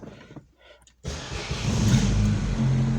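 A 1996 Opel Vectra-B 1.6i petrol car with electrical faults cranks and catches, then settles into a steady, fairly loud idle after a quiet interior with faint handling noise beforehand.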